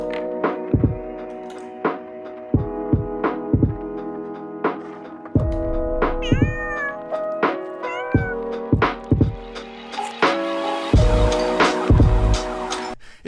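Several cats meow repeatedly in short, close, insistent calls, some rising and wavering, with occasional thumps between them and no talking.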